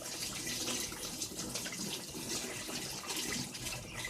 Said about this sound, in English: So you want to wash your hands.